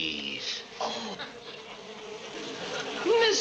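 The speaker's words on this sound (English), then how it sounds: "Listen to the buzzing of their merry little wings." Bees buzz in a continuous, wavering drone, fairly loud and close, with a faint voice under it in a classic TV sitcom scene.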